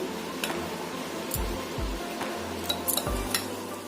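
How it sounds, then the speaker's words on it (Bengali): A spoon clinks and ticks lightly against a bowl, in sparse irregular taps, while semolina, baking soda and other dry ingredients are stirred together for gulab jamun dough, over a quiet background. "এই সমস্ত জিনিসটা আমি একসাথে ভালো করে মিশিয়ে নিচ্ছি।"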